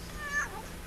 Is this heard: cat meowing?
yes